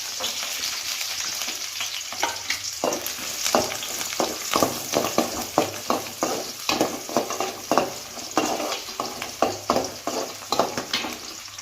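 Fenugreek seeds, dried chillies and onion fry in a hot pan for fish kuzhambu, a steady close sizzle broken by repeated sharp scraping stirs, with no one talking.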